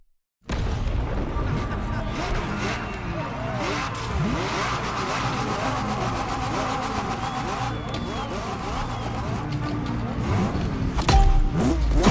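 An exclusive McLaren's engine in the racing game The Crew Motorfest, a loud, sustained roar that runs almost the whole time and swells toward the end.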